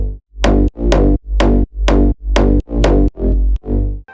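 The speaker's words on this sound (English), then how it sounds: "Altogether the bassline sounds like this" Bass boost bassline layered with a separate sub-bass, eight loud pumping notes in a steady bouncing rhythm with heavy low end, played alone.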